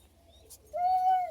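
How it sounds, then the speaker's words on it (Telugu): A single bird calls outside among trees, a short clear whistled note rising and holding steady near the end, fairly close against a quiet background with a faint low hum. "వినిపిస్తున్నాయా, పక్షులు అరుస్తున్నాయి."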